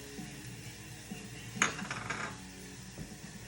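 Corn and green onion tipped into olive oil in a small pot, giving a brief clatter and clink of utensil against metal around the middle, then quiet kitchen handling.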